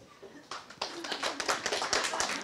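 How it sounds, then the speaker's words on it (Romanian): A sparse scatter of hand claps in a stand-up comedy audience builds over a couple of seconds, quiet and fairly near, with a voice faintly underneath. "Scurăcenii de acord cu mine prin aplauze."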